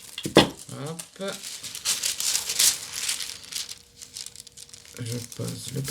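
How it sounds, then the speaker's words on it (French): Crinkly tissue paper being laid down over a mixed media art journal page, giving soft rustling and crackling that runs through most of the stretch, with a person speaking briefly at the start and again near the end. "Je pose le papier de soie."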